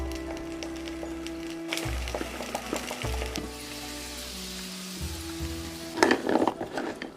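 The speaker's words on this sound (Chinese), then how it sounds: "再加入半碗清水，盖上盖子，大火焖8到10分钟" Chestnuts cooking with honey and water in a covered pot over high heat, a steady low bubbling sizzle with scattered pops and crackles, joined near the end by a brief burst of louder clattering.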